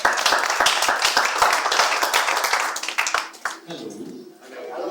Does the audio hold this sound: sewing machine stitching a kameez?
no